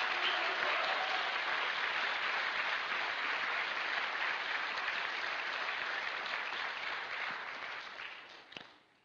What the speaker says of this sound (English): Let's have a hand for that.